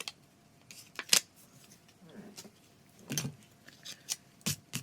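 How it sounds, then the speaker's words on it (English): Scissors snip the offset from vinyl-like stickers in a series of quick, crisp cuts, close and fairly quiet, spaced irregularly with soft paper rustling between them. "Again, I'm going to trim off the offset like I did on the other ones"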